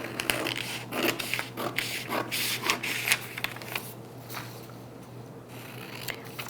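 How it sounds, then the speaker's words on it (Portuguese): Scissors cut through fabric around a pet bandana pattern, giving repeated close snips and rustling crunches in an irregular rhythm, fairly quiet and without talk. "Vou recortar toda a volta."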